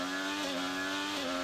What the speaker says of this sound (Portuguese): Aí ele vai entrar acelerando aqui justamente para pegar